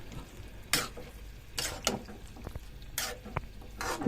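A tempering poured into a cooking vegetable curry sets off a moderate sizzle, overlaid by several scraping stirs of a spoon against the pot at close range.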